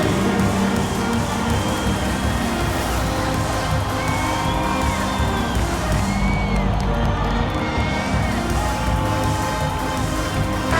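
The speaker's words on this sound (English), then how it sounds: "Fans, please give a big round of applause for your Pacers Youth Dance Team." A large crowd cheers and shouts continuously in a big, echoing basketball arena after a youth dance team performance, a dense roar with scattered whoops and some clapping mixed in.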